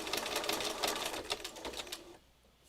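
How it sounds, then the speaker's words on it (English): A sewing machine back-stitches while binding the edge of a fabric heart with green thread, a steady close whirring chatter of rapid needle strokes that slows and fades near the end. "And then I'm going to back stitch."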